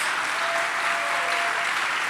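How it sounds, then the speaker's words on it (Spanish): Church congregation claps in praise during a sermon, a dense, even roar of applause filling the whole moment without letup. "Démosle fuertes y aplauso a nuestro Dios."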